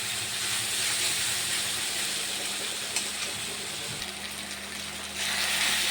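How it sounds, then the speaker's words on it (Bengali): Chopped ginger and garlic fry in hot oil in a pan, giving a steady close sizzling hiss with slight swells and a few soft stirring knocks, without talking. "নাড়াচাড়া করবো যতক্ষণ না কাঁচা গন্ধটা যায়, তেলটা ছাড়ে, ততক্ষণ পর্যন্ত ভাজাভাজি করবো"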